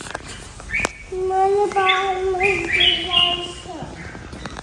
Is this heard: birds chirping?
yes